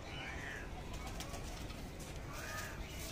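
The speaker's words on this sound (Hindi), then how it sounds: "ये राजस्थानी कबूतर है" A Rajasthani high flyer pigeon coos twice, soft rolling calls near the start and end, over a steady background hum with no talking.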